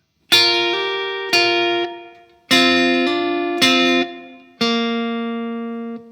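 Five plucked guitar notes ring out one after another, each sustaining and fading, with small pitch steps from hammer-ons played wrongly; clean and close, no voice.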